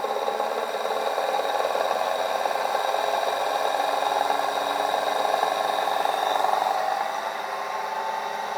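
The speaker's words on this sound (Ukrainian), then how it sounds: "і двигун якби починає набирати оберти." A motor spinning up at close range with a dense mechanical hum and faint tonal whine, holding fairly constant before easing slightly near the end; no voices.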